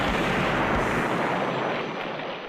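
A car explosion in a film, a loud, dense roaring blast with a heavy low thump at the start that fills the short clip and slowly fades as the debris settles.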